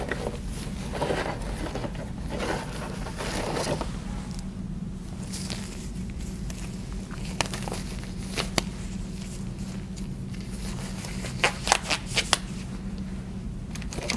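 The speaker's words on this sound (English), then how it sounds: "I'm going to put on some non-sterile gloves." Non-sterile medical gloves are pulled on in a nursing skills setting before a nasogastric tube insertion, giving soft, continuous rustling and crinkling with a few sharper snaps near the end, close by and with no talk.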